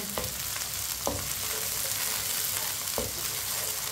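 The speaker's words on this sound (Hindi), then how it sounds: "ऐसे ही चम्मच चलाते हुए ब्राउन करना है भिंडी को" Okra browning in a pan, a dense steady sizzle up close with a few sharp clicks of a spoon against the pan as it is stirred.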